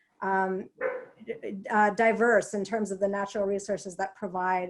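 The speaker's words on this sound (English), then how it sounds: "Sorry for the dog barking." A dog barks and yips in the background, mostly masked by a person talking steadily in the foreground throughout.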